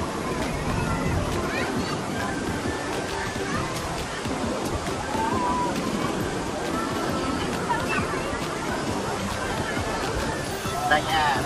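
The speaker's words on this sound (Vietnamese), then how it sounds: "Đây nha, đây là biển Tàu nha." Sea waves wash and slosh along the beach at Vũng Tàu, Vietnam, a steady broadband surf roar that runs the whole time, with a busy crowd murmuring in the background.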